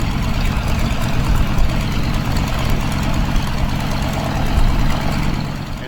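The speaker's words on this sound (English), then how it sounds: "they finally got the 3rd engine going" A restored aircraft piston engine runs steadily at a loud, dense, low rumble that holds throughout without pause, heard close with no talk over it.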